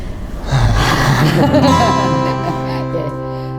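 An audible gasping intake of breath from a person in an acting class, loud and close, over a low hum with a faint voice nearby.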